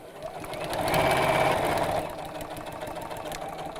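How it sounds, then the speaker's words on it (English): A sewing machine stitches a seam in fabric, a close, steady mechanical whir that swells for a second or so and then settles to an even hum. "So let's just sew up to that."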